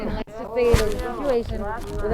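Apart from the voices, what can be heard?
No everyday noises stand out.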